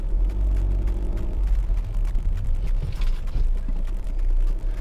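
A Honda Civic 1.6 i-DTEC diesel hatchback on the move, a steady low engine drone and road rumble from inside the cabin, constant and fairly loud with no speech.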